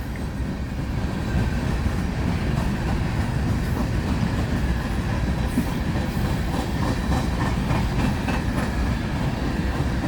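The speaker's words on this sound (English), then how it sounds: "The coal train was the main thing we were here for." A coal train rolls past on the rails, a loud, steady rumble and rattle of wagons with faint clickety-clack, continuous and close for the whole stretch.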